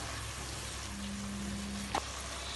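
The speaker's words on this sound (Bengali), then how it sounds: "দিয়ে আমি এই মশলাটা খুব ভালোভাবে কষিয়ে নেব।" Spice masala for egg lababdar sizzles and fries steadily in a pan after a splash of water, a continuous close hiss with a brief louder crackle near the end.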